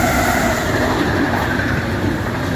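An RTB Cargo Smartron locomotive hauls a freight train past at close range, with a steady loud rumble and rolling wagon noise throughout.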